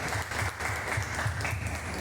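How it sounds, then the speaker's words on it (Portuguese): A church congregation applauds steadily, a dense, even wash of clapping from many hands throughout. "Vamos aplaudir o Senhor Jesus."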